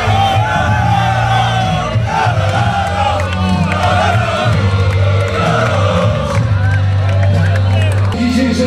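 A large crowd at Radunia Stężyca's football celebration of promotion to II liga cheers, yells and applauds loudly and continuously, with a voice speaking over the noise.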